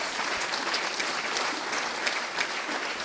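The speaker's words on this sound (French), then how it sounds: "on peut les applaudir bien fort." An audience claps at the opening night of the 2017 Villerupt Italian Film Festival, a dense, even roar of applause that holds steady throughout.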